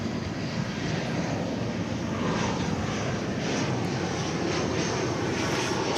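An airliner at DFW Airport gives a loud, continuous roar of jet engines, a broad, even rumble that stays steady and close without talk.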